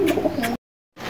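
Pigeons cooing in a rooftop loft in hot weather, a soft throaty coo with faint chirps, then a sharp break into silence before the ambience resumes.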